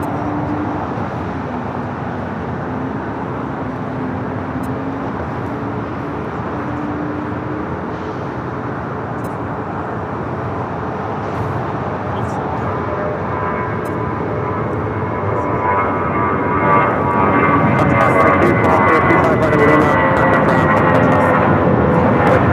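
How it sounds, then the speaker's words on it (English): An All Nippon Airways Dreamliner jet takes off on runway 24 left at LAX, its engine roar building steadily from a distant rumble to a loud whining thrust over about twenty seconds. "We have the All Nippon Airways Dreamliner rolling on 24 left."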